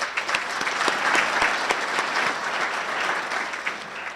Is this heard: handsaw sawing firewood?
no